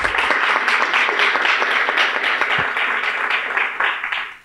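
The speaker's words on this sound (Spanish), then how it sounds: "vamos con un aplauso" Loud, close audience clapping after a startup pitch presentation, dense and continuous for several seconds before tapering off at the end, with no voices over it.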